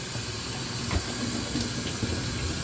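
Water runs and splashes while rinsing the drain filter of an LG washing machine, a steady near trickle with a few brief knocks and no talking.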